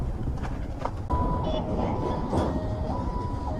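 A train passes near a road on a motorbike ride from Kolkata toward Siliguri, giving a steady rumbling roll with a few sustained horn-like tones over constant nearby engine and road noise.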